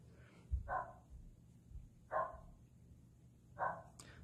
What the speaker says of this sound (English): Oh, more dog barking.